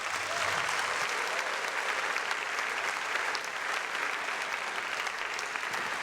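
Steady, full applause from a conference audience welcoming George Pendergrass to the stage, a dense wash of clapping holding at an even level throughout with no talk over it.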